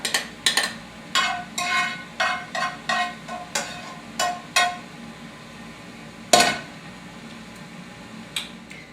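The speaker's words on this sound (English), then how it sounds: "So first, we're going to throw that in the crock pot." Cooked turkey tipped into a crock pot for chili, heard as a run of short clattering knocks and scrapes against the pot at a steady rhythm, with one sharper bang near the end and no talking.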